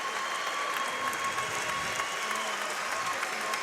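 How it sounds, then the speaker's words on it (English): Sustained crowd ovation at a girls basketball semi-state game between Bremen and Lapel, a broad wash of gym applause as a senior player heads to the bench, steady and fairly loud. "Coach Newby wanted to give her a chance to get an ovation from the crowd."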